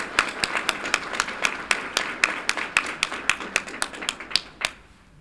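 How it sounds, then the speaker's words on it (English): Applause from an audience at a school board meeting, sparse, distinct claps in a steady patter that thin out and stop near the end, moderately close. "Let's give them a round of applause."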